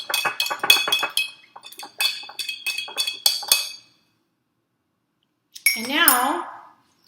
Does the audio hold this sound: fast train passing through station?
no